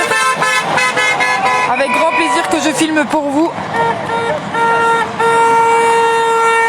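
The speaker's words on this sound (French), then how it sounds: "Voilà les klaxons qui continuent." Car horns honk again and again at a convoy departure in Rennes, France, a mix of short toots and long held blasts close by, with a voice talking briefly partway through.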